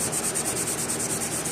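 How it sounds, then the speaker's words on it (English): A Scotch-Brite pad soaked in mineral spirits scrubs residue off an old tilt-out window, making a fast, rhythmic back-and-forth rasping at close range with about a dozen even strokes. "I'll go ahead and scrub this whole thing down."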